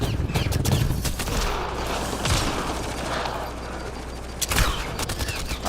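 Pistol fire in the sci-fi video game Mass Effect: Andromeda, a series of sharp shots in quick bursts against a dense backdrop of combat noise and rumble, with no talking.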